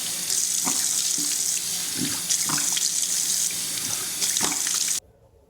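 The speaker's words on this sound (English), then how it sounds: "Rinse my face." Tap water runs steadily into a sink while a face is rinsed, a loud continuous splashing with soft wet thumps of hands, then the flow stops abruptly.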